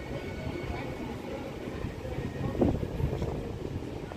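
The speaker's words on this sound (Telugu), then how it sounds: "ఎర్రిపాలెం నుండి అయితే మన ట్రైన్ అయితే బయలుదేరిపోయింది" A MEMU passenger train pulls away from Erripalem station on the Vijayawada–Bhadrachalam Road line, giving a steady low rumble and rattle of moving carriages with some wind noise and a brief louder clatter midway.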